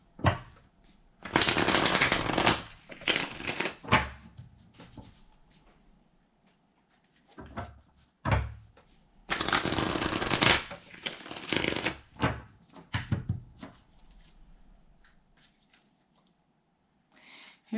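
Tarot cards shuffled close by in repeated bursts of riffling and flicking, several seconds each, separated by quieter pauses and soft handling sounds.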